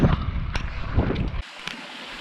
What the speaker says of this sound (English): there's a lovely little waterfall coming down off the rocks